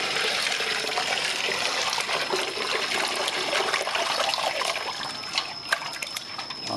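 Pork intestines are rinsed under running water in a kitchen. A steady, close gush of water splashes continuously with small trickles and sputters throughout.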